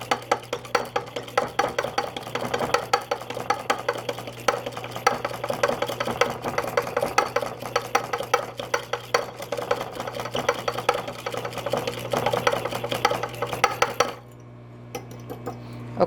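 Batter for keto two-minute buns mixed in a small dish: steady, rapid scraping and clinking of a utensil against the container, close and fairly loud, running continuously before stopping abruptly near the end. No talk.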